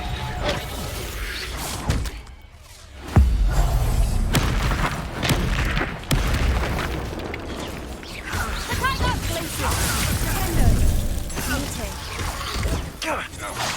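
Reducto spell blast in Hogwarts Legacy: a sudden booming crash after a short lull, followed by continuous mechanical clattering, whooshes and shattering debris in a busy battle mix with voices.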